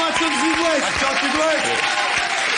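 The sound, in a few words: studio audience applause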